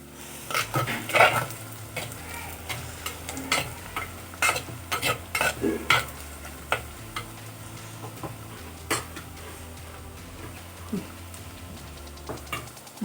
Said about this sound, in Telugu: ఉల్లిపాయలు అయితే కొద్దిగా వేగి బాగా మెత్త కదండి